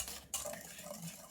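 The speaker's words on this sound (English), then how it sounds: "I'm going to have to use this big whisk. Whisk it all together." A big whisk stirs dry ingredients for a keto lemon poppy seed loaf in a bowl, brief scraping and light clinks, quiet and close.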